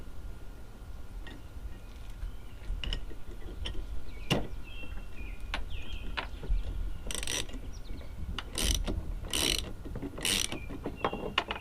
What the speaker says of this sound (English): I got a deep well socket on there.